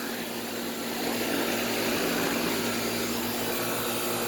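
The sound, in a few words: Goodman air conditioner running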